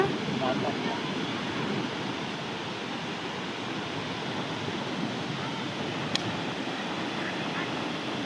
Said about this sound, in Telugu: చూసారా అలలు ఎన్ని వస్తున్నాయో?